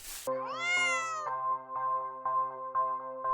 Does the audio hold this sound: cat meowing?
yes